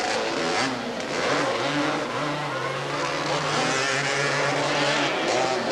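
Honda quad ATVs race through mud at the Thurston County Off-Road Vehicle Park, their engines droning and revving steadily at a moderate distance.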